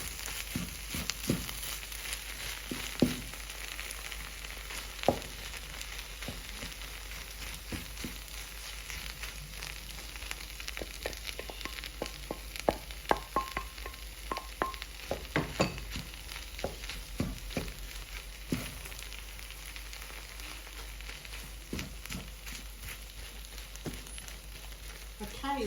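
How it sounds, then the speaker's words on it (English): Nigerian fish pie or fish roll filling being stirred in a frying pan after fish is added: a steady close sizzle with irregular scraping and stirring knocks throughout. "now we're gonna add the fish and mix all together"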